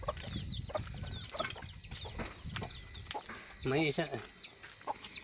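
A mother hen clucking in a farmyard, soft repeated clucks and chick-like chirps close by over background noise, with someone speaking briefly.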